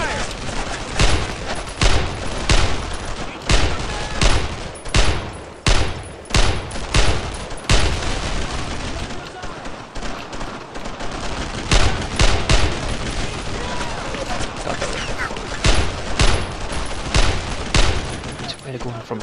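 Heavy sustained gunfire from the World War II video game Brothers in Arms: Road to Hill 30, dense rapid rifle and machine-gun bursts roaring loudly and almost continuously throughout, with no clear pauses.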